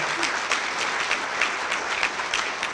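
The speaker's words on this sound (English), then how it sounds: "I'd like to have a big round of applause for all the parents, guardians, and family members here tonight" Audience applause fills a football banquet hall for parents, guardians and family, a steady dense wash of clapping throughout with no talk over it.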